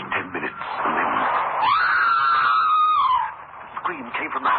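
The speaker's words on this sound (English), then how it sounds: "A scream came from the house." A woman's long, shrill scream rings out from inside a house in a radio drama, rising sharply and holding for over a second before fading into spoken narration.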